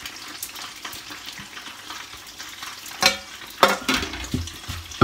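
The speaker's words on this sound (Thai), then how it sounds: "ทอดปลาแล้วน่ะ" Fish frying in a pan outdoors, a steady crackling sizzle throughout with a few louder spatters and scraping clatters near the end, close and fairly quiet, no voices.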